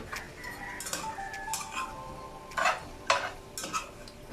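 A spoon stirs salmon sinigang in a pot, giving several clinks and scrapes against the metal at uneven intervals over a faint simmering hiss, all close by.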